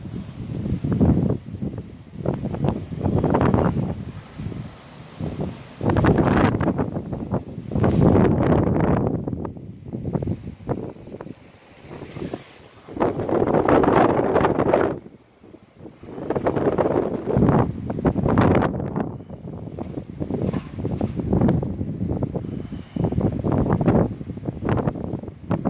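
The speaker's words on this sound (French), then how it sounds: "Là, on a des rafales très fréquentes là." Strong, frequent wind gusts from storm Carmen at Le Mans, France, roar and buffet the microphone in loud surging waves, with brief lulls between blasts and no talking.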